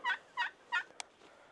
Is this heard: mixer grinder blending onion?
no